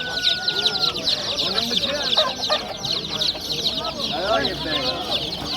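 Chickens and chicks at a poultry bazaar cluck and cheep in a dense, close chorus of overlapping calls, loud and continuous, with people talking amid the birds.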